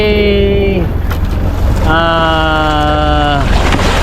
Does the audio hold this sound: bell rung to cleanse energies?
no